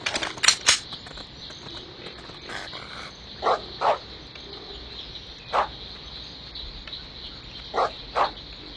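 Several barks from a dog in the hunting video game Deer Hunter 2018 come in short pairs and singles, spaced apart over a steady hiss of outdoor ambience with faint insect-like chirping.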